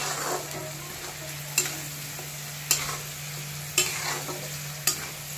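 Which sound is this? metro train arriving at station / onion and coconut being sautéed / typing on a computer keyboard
onion and coconut being sautéed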